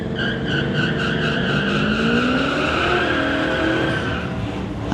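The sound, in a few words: Corvette and Chevrolet S10 drag racing at street legal event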